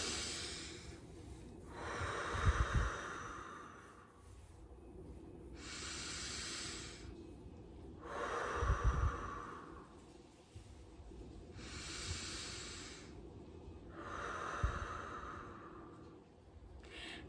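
Slow deep breathing exercise of balloon and bumble bee breaths: long airy inhales alternate with extended hissing, humming exhales in a steady cycle of about five breaths, close and quiet, with no talk.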